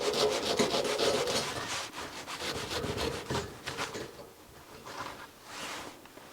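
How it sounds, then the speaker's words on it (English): Burnt bottoms are scraped off camp-oven baked rolls outdoors in freezing winter, producing close, rough rasping strokes in an uneven back-and-forth rhythm that thin out toward the end, with no talking. "Oh, burned a lot. Well, I'm gonna have to scrape that off."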